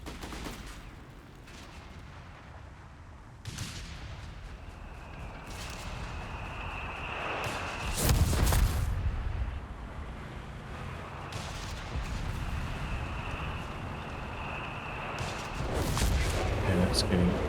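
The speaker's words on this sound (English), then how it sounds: "And it's getting shelled now by the Cannone." Mortar shelling from the Cannone in Company of Heroes 3 lands as a string of booming blasts, one especially heavy, over battle noise, while a commentator talks throughout.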